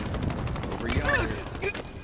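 Rapid automatic gunfire in the video game Halo Infinite, a fast stream of repeated shots with short electronic game effects layered on top, loud and continuous for the whole span.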